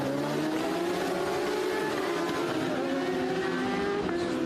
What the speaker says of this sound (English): So they will get away on their formation lap.